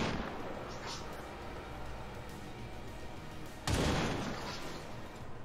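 Heavy weapon shots in the video game XCOM 2: two loud booming blasts a few seconds apart, each with a long rumbling decay over steady background noise.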